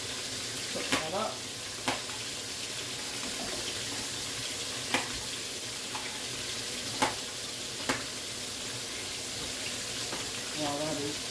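Meat browning in a pan for homemade soup and dumplings gives a steady, faint sizzle, broken by a few sharp utensil clicks and scrapes at irregular intervals, with no talk over it.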